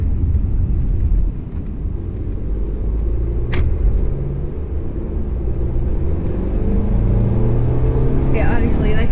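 A 2017 Mercedes-Benz E300 sedan accelerates with a smooth, low engine rumble that holds steady throughout, and a voice is faintly present alongside it.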